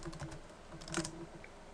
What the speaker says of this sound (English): now if I open a terminal again, and I type in sudo yum